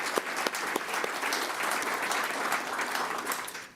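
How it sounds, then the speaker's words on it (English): A round of applause from the audience at a public school board of education meeting, even and fairly soft, sustained for a few seconds and tapering at the end. "I think that deserves a round of applause as well for a job well done"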